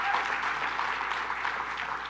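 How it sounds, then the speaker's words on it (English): An audience applauds advocates at a New York State event where Governor Hochul unveils a swimming initiative; a short, steady burst of clapping fills the room throughout. "Give a round of applause to the advocates who've been fighting for this for a long time."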